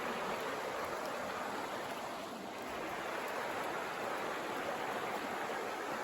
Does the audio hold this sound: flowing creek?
yes